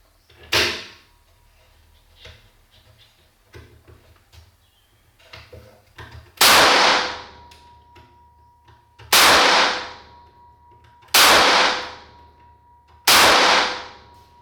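A derringer pistol is test-fired in a second round, a few loud, close bangs spaced a couple of seconds apart with sharp attacks and short decays, preceded by quieter handling clicks and faint speech.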